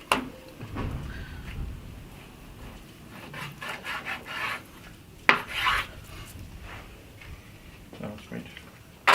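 A knife slices pork into thick slices on a board, making rasping, rubbing cuts in short irregular strokes at close range, while a person speaks intermittently.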